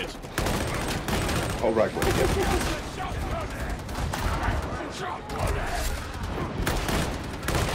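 Sustained automatic gunfire from a braced autogun in Warhammer 40k Darktide, dense rapid bursts running almost continuously near and loud, with a voice speaking briefly over it.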